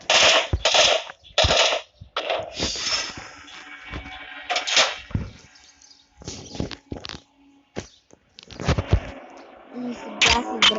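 Pistol gunfire in a zombie video game comes as a string of sharp, close shots in irregular bursts, some rapid and some spaced apart, with brief quiet gaps and faint talk between them.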